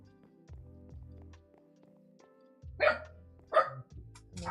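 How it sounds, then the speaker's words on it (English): Dogs bark in short bursts a few seconds apart, sharp and fairly distant, over a faint background of low blocky game sounds and clicks, with no voices. "there goes my dogs again"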